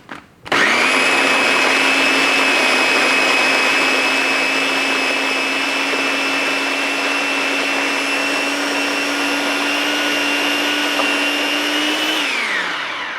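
A food processor blends medjool dates and chunks of dried mango, starting abruptly into a loud, steady high whine that holds for about twelve seconds before winding down at the end.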